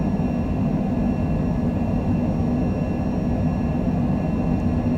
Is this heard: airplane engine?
yes